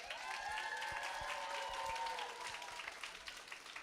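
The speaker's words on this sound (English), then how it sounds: "Can we get a round of applause for the parents?" Kindergarten stepping-up ceremony audience gives parents a round of applause, a soft, fairly distant patter of many hands, with cheering or whoops above it and occasional low thumps.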